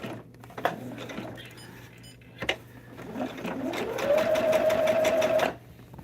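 A sewing machine basts quilt fabric to a foundation for a Storm at Sea throw quilt, its motor rising into a steady, close whirring stitch run lasting a couple of seconds, preceded by brief clicks and handling.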